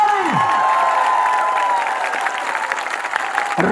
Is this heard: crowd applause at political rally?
yes